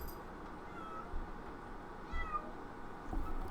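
A female cat just woken from sleep gives a few soft, short meows, quiet and fairly close, over steady low room noise.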